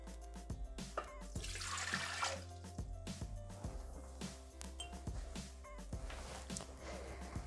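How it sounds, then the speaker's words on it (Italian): Water pours into the bowl of a Thermomix TM6 kitchen machine, a splashing trickle that rises and falls over several seconds, mixed with clinks and knocks on a steady low hum. "Iniziamo la ricetta mettendo all'interno del boccale l'acqua,"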